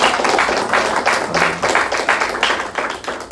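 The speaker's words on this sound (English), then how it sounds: "we want to give everybody a round of applause who spoke before me" A round of applause from an audience at a talk on knowledge of self and Louisiana's CRT ban, dense steady clapping throughout, fairly loud and close, with no voices over it.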